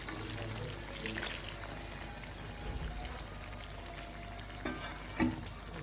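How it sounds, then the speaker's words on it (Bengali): Chicken pieces fry on high flame in a pan for an onion-tomato chicken curry, giving a steady close sizzle with occasional stirring scrapes and a couple of louder clanks near the end. "চিকেনগুলো ভালো করে ভেজে নিতে হবে তার আগে"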